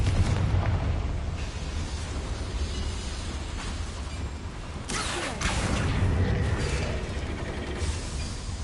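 Confringo fire spell from the video game Hogwarts Legacy, cast in a mine: a loud, sustained rumbling blast that swells again midway with a burst of crackling debris, dense and close.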